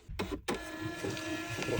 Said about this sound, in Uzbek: Printerimizga nakleyka chiqadi, tovarlar, narxlar bo'lmasa, senikini chiqarib beradi.